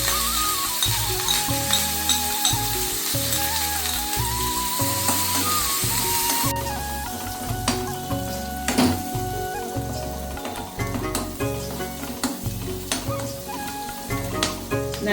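Crushed shallots, garlic and curry leaves sautéing in a hot pan, a loud continuous sizzle with mechanical rhythmic pulsing early on, then scattered sharp clicks and scrapes of stirring, close up with no talk.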